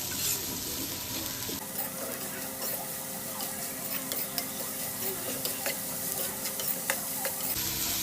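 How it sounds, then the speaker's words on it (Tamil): Onions sautéing in a pan for an ivy gourd curry: a continuous close sizzle with frequent light scraping clicks of a spoon stirring through them, no voices. "நல்லா வதக்கிக்குவோம்."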